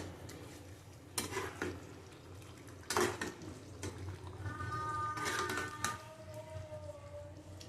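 A spoon stirs a raw banana and lentil fritter curry in a pan, giving scattered metallic scrapes and clinks against the cookware over a low, faint kitchen background.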